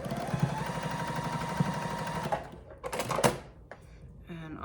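A sewing machine stitches a scrappy quilt block, running with a fast steady mechanical whir for about two seconds before stopping, followed by a few scattered clicks and handling noises, with no talking.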